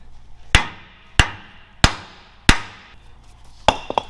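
A hammer strikes a metal wheel lift part on an International 4300 truck in five sharp, ringing blows at a steady pace, each about 0.65 seconds apart. The hits are close and loud, with a few lighter knocks at the end.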